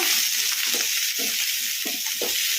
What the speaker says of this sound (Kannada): ಈ ಥರ ಟೊಮೊಟೊನ ಕಲಿಸ್ಕೊಂತ ಫ್ರೈ ಮಾಡ್ಕೋಬೇಕು